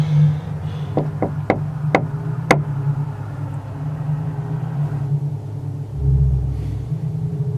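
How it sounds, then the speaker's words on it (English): Knocking on a house door, five sharp raps in a quick uneven run, fairly close and loud, over a low steady rumble of an idling car engine. "Okay, let's knock."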